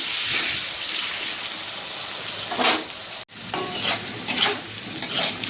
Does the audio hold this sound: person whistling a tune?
no